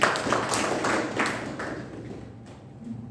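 Audience applause following a speech at a club meeting, a brief burst of clapping that starts loud and tails off over a few seconds.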